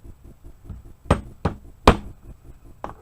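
A plastic-faced hammer taps on a rifle pin held in a vise, giving four sharp, close knocks at uneven intervals amid faint background clatter.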